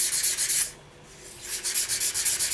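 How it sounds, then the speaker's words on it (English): Wet 800-grit sandpaper rubs across baked polymer clay earrings in quick, rhythmic back-and-forth strokes, close and fairly loud, with a short pause in the middle before sanding resumes. "give them a very light sand just to clear up the mica shift using some wet 800 grit sandpaper"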